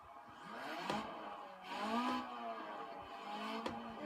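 Racing-game car engine revs through a Logitech G920 wheel setup as the throttle pedal is pressed, rising in pitch in three surges with whining harmonics, moderately loud, no talk over it.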